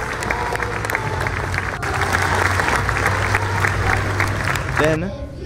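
A school assembly crowd applauds veterans with sustained, dense clapping that fills the room, while a voice talks over it near the end.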